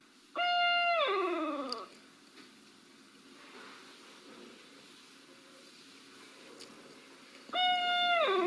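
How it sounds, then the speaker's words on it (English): Two loud, harmonic barred owl screeches, recorded in New Hampshire, one at the start and another near the end, each a wavering descending call with quiet background between. "That's a screech."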